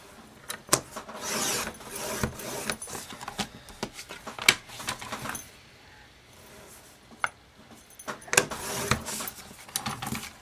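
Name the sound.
cutting a wooden piece down to 4 inches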